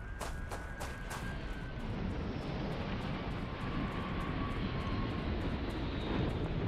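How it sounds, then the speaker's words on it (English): A spaceship landing in the video game Starfield, a steady loud roaring engine rumble with a rising hiss and a few sharp early bursts, no talking over it. "Did they have a ship just randomly landing?"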